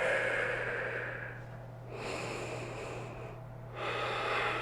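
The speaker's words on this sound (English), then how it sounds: "Take 2 more deep breaths here" Slow, deep breathing during a yoga balance pose: about two long, close, airy inhale-exhale cycles with soft pauses between them, and no talking.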